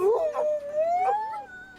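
A dog howls in long, wavering, rising tones before a canicross race at the French championship, close and fairly loud, with faint voices in the background.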